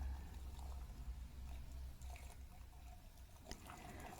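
Running water trickles and splashes softly as makeup brushes with densely packed bristles are soaked and rinsed, a faint, close wash with small drips and knocks, no talk over it.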